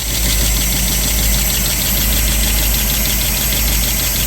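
A 1958 Cadillac Fleetwood converted to an El Camino style body, its engine idling loud and close with a steady rumble and a faint rapid lifter tick running through it, no voices.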